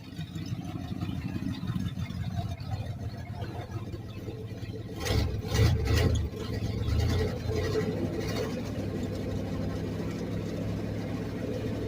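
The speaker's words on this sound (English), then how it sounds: "Now it's idling more like it should." A carbureted engine idles steadily after water was cleared from its carburetor, a continuous low rumble with a brief louder surge midway, then settling back to an even idle.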